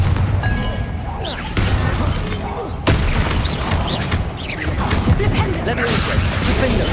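Rapid explosive blasts from the Confringo fire spell ring out in Hogwarts Legacy combat, sitting in a dense, continuous wall of loud spell-casting and impact noise with a sharp burst near the middle.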